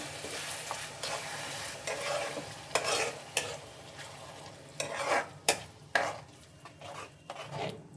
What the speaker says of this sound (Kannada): ಹಾಕ್ಕೊಂಡು ಹಸಿ ಸ್ಮೆಲ್ಲೆಲ್ಲ ಹೋಗೋವರೆಗೂ ಸ್ವಲ್ಪ ಹೈ ಫ್ಲೇಮಲ್ಲಿ ಕುದಿಸ್ಕೊಳ್ಳಿ